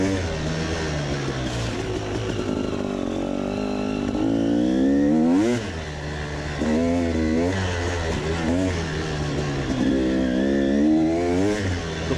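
Enduro motorcycles race around a track at MSC Klein-Krotzenburg, engines revving and shifting in rising and falling sweeps as bikes pass at middle distance over twelve seconds.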